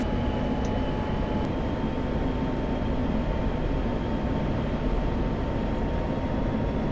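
A jet's fast takeoff roll in DCS World over the Nevada Test and Training Range produces a steady, loud engine roar with a faint high whine. It holds constant and alone for several seconds.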